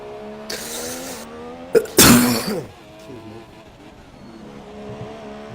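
A single loud cough bursts out over the steady whine of racing car engines during a sim-racing GP3 race at Azerbaijan, followed by a short rustle.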